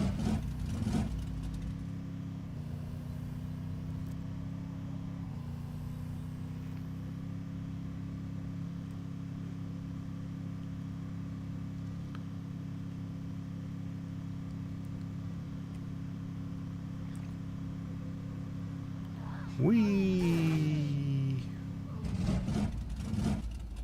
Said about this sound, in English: Ugh, sounds like my engine died.